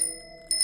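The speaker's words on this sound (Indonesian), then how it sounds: "Iya, suara kring sepeda." Bicycle bell giving a quick bright ring, two short metallic dings close together near the end of a brief quiet moment on a mountain trail, alone with no talk.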